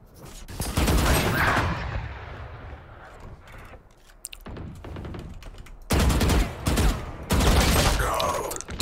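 Loud bursts of gunfire in the tactical shooter Valorant, several rapid volleys separated by quieter gaps with scattered single shots, each burst sharp and close, with some faint voice in between.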